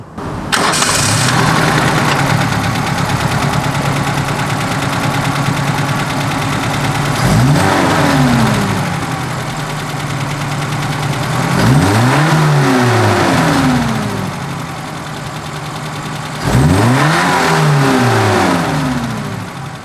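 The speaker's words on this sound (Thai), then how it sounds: "มาฟังเสียงเครื่องยนต์กัน" A Mazda Familia Supercab pickup truck's four-cylinder engine starts and idles steadily, then revs up and back down three times, loud and close, with no talking.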